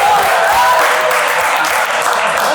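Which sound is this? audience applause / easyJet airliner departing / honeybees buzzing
audience applause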